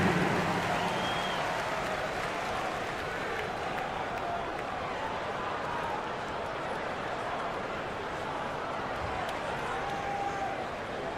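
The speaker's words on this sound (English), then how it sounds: "Let's give him a big round of applause." Arena crowd applause at an NBA game, Detroit Pistons vs Los Angeles Lakers, rolls on steadily, a broad wash of clapping with cheering voices mixed in, filling the whole stretch.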